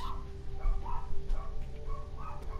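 Dogs barking and yipping faintly in the background of a room, a few short muffled barks over a steady low hum.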